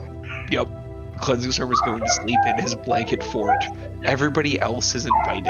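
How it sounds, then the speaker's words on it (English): Dogs bark and yip in the background of a tabletop role-playing game session, sitting faint beneath continuous close talk throughout. "My apologies if you hear the dogs in the background."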